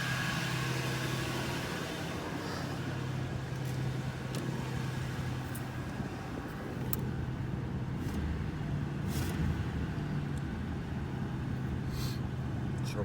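A 1985 Oldsmobile Delta 88 engine idles steadily just after its first start, a continuous low rumble with a faint hum throughout and a few light clicks near the end, no talk.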